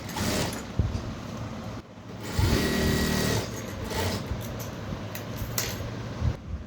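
A sewing machine stitches a blouse seam along the armhole in short runs, its rapid mechanical whirr starting and stopping with brief pauses between bursts, heard up close.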